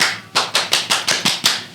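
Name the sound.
Indonesian scout clap (tepuk pramuka)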